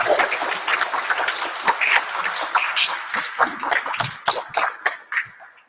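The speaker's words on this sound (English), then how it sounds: "Can we just do another round of applause for everybody?" A convention keynote panel audience claps in a dense round of applause, with scattered bursts and a cough or two, fading toward the end.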